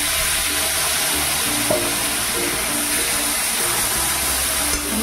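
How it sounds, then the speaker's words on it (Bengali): Masala cooking in a pan with a little water added makes a dense, continuous hiss and sizzle, loud and close, with a faint low hum beneath and only a couple of small knocks. "মশলার সাথে ভালো করে মিশিয়ে নেব। অল্প একটুখানি জল নেব, নাহলে নিচে লেগে যাবে।"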